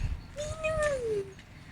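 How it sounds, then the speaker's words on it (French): A small cat meows once on a dark evening street in Japan, a single close, drawn-out rising-then-falling cry over low background traffic noise. "Oh, un petit minou."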